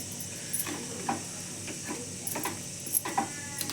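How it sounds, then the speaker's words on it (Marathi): Roasted semolina and mango mixture is stirred in a pan, giving a faint low sizzle with light irregular scrapes and ticks from the spoon, close by and without speech. "हलवून हलवून हे बघा असं चांगला एक जीव करायचा त्याचा"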